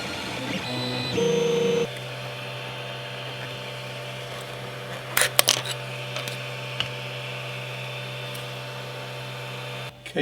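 A small 3D printer works on a custom Hot Wheels part, its steady mechanical hum and motor whine running continuously, with a brief higher tone near the start and a few faint clicks and taps in the middle.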